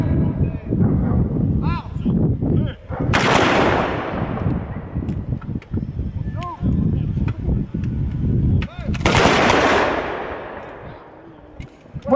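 Machine-gun and infantry gunfire ring out at a historical reenactment: two loud, sharp volleys several seconds apart, each tailing off, with people talking throughout.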